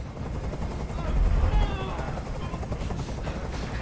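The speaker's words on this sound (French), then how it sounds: "Je peux plus supporter ce bruit. Fais dégager cet hélicoptère, maintenant." Helicopter in the video game Detroit Become Human, a chopping rotor drone mixed with loud low rumbles and bursts of gunfire-like crackle, continuous throughout and moderately close.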